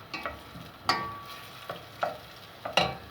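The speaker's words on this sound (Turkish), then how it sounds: "Yemeğimizi şöyle sosla kaynıyor burada" Food bubbles and sizzles in sauce in a pan, with a few sharper clinks and scrapes from stirring breaking through the steady simmer.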